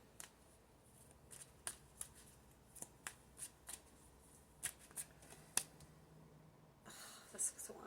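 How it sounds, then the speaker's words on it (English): Tarot cards being shuffled close by, heard as a series of soft, crisp flicks and riffles at irregular intervals, ending in a denser shuffling burst. "Let's get these cards out."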